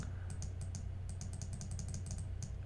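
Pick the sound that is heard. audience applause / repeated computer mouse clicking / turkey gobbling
repeated computer mouse clicking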